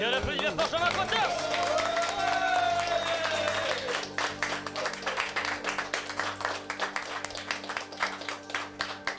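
Audience clapping after a song performed on a radio show, starting under a fading sung note and a voice, then swelling into sustained, dense applause from a crowd.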